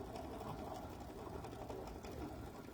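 Background quilting on a quilt block: a sewing machine stitches an off-white thread in a low, steady whirring hum, faint and continuous, with no talking over it.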